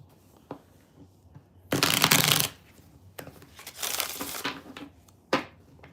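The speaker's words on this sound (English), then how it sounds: "Let me just shuffle." Tarot cards being shuffled by hand during a live reading, heard as two loud riffling bursts with a few softer taps and card slaps between them, close and alone without talk.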